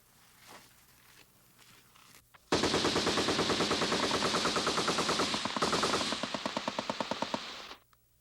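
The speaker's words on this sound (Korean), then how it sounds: "겁을 주기 위해서인지 천막 위로 예광탄을 쏘아댔다" A machine gun fires tracer rounds over tents at night in a long, loud, rapid sustained burst lasting about five seconds, briefly pausing mid-stream before tapering into a few final shots.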